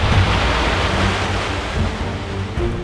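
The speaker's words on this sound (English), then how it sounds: "Breaking waves quite high" High breaking waves at sea near the Faroe Islands roar as a steady, loud wash of surf and wind noise from a sailing boat, with a low rumble underneath and no voices.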